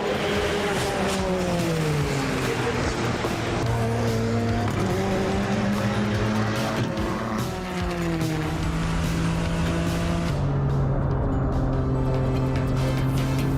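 A car driven hard in a time attack session, its engine roaring continuously and close, with pitch sweeping up through the gears and dropping on shifts, tire noise underneath throughout.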